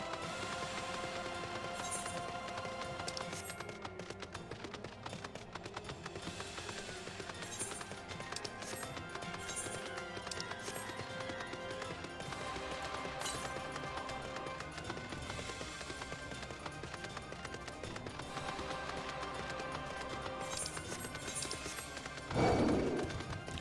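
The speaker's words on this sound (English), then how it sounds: "I'm riding on a flaming horse." Hooves of a flaming horse mount in Final Fantasy XIV: Heavensward clip-clop in a steady running rhythm beneath a continuous layer of game music, fairly quiet, with a louder thump near the end.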